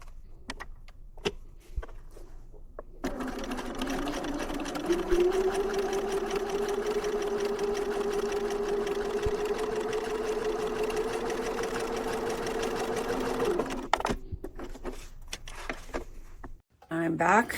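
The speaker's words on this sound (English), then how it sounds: "take it back to my sewing machine and sew on the diagonal" Strong wind buffets the microphone in a tropical fruit garden, a continuous rumbling roar, briefly dropping out before gusting again.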